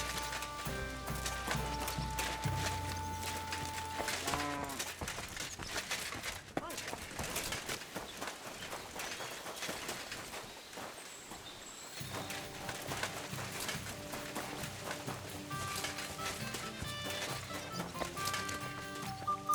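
Horse hooves clip-clop at a steady walking rhythm in the video game Kingdom Come: Deliverance II, moderately close and partly buried under music and ambient game sound, with a short quieter stretch in the middle.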